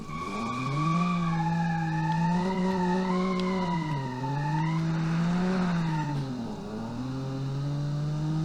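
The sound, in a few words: economy car driving and skidding in a video game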